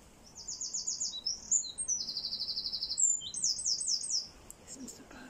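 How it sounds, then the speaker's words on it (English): Wren and other birds singing in a garden, bright rapid trilling phrases and chirps repeating over several seconds, fairly close and clear above a soft background hush. "Little wren over there."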